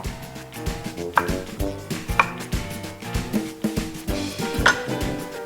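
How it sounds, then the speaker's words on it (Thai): Rapid, repeated knife chops through potatoes against a cutting board, steady and close, with light clattering between strikes and no talking. "หั่นเป็นชิ้นพอคำเลย"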